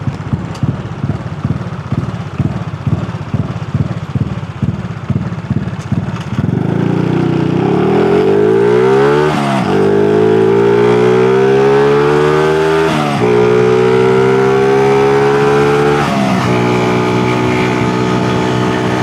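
Honda Super Cub motorcycle engine while riding on morning twisty roads, at first a rhythmic throbbing pulse, then loud climbing revs through the gear changes, close and continuous with no talk.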